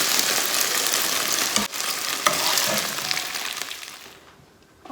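Pieces of Kung Pao chicken fry in a hot wok with loud, dense sizzling close by, broken by a couple of stirring knocks before it fades away near the end.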